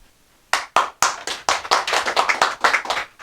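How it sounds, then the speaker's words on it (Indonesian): Several sharp hand claps burst in after a quiet start, building into close, loud clapping from a small group with an uneven rhythm, at a political party branch gathering in Malang, Indonesia. "Kalau beri tepuk tangan yang keras ya"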